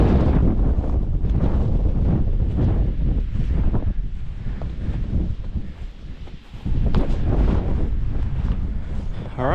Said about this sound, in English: Definitely a bit windy up here.